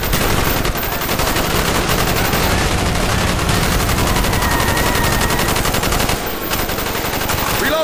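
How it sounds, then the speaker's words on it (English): Sustained automatic gunfire in the Call of Duty Black Ops video game, a loud, dense rapid rattle of overlapping weapons firing nonstop through a street fight, with occasional voices underneath. "Bowman, Carlos, lay down covering fire."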